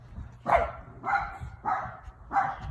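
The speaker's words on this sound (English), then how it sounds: "And those are the back dogs, obviously." Dogs barking in a back yard beyond a spring garden, four evenly spaced barks at moderate distance, steady and loud, with no talk over them.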